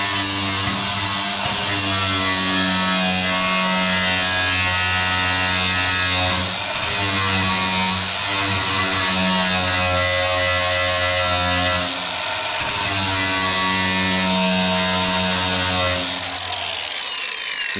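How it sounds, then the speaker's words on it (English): Power sander whirring steadily with a strong motor hum, running continuously close by with brief dips near 7 and 12 seconds, during work on a 1969 B-Body car mockup. "Now we might just take the sander there"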